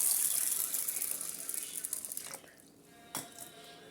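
Water pours and trickles steadily onto chana dal to soak it, then thins out, followed by a brief sharper splash near the end.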